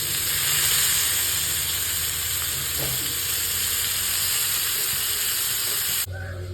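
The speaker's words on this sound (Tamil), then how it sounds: "இந்த மீனை பொரிச்சு எடுக்கலாம். ஆயில் ஊற்றிக்கலாம்." Home-made masala fish fries in hot oil with a loud, continuous sizzle and hiss that holds steady, then drops abruptly near the end.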